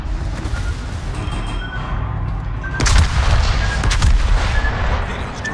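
Warship guns firing in World of Warships from the battleship Jean Bart, several deep booming salvos over a constant low rumble, with the heaviest blasts clustered near the end.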